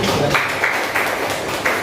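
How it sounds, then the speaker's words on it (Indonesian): Students in a classroom clap together as a group during a math lesson, a dense burst of applause lasting a couple of seconds with a few louder peaks. "Oke, kita tepuk tangan dulu."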